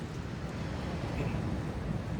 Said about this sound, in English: Sorry about the wind. It is quite windy